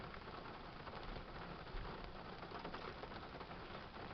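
Steady rain falls outdoors on a rainy day, a continuous even hiss of drops with no letup and no voices.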